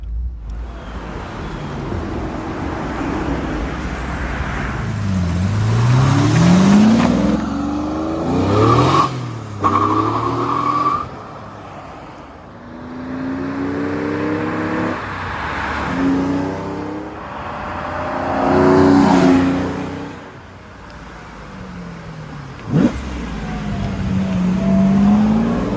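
A 1972 Jaguar E-Type V12 roadster revs and drives past outside. The engine sweeps up and down through several loud acceleration pulls, with the pitch rising and falling as it nears and recedes, and no voices over it.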